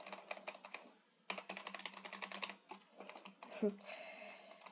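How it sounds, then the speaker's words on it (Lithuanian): A single V key pressed on a computer keyboard during a game session, amid steady clacking of typing, close and moderately loud, with brief gaps and a soft thump near the end. "Tik čia V spaudžiu"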